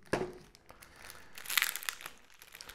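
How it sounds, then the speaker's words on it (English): Plastic bag crinkling as it is packed into a product box, a few soft rustling, crunching handling sounds close by, fairly quiet with no talk. "Let's put the plastic bag in there as well."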